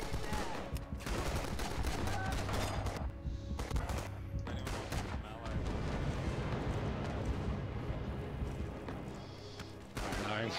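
Grenade blasts and bursts of gunfire from the video game Rising Storm fill the stretch, loud and dense and continuous, with a brief lull near the middle and a speaking voice mixed in.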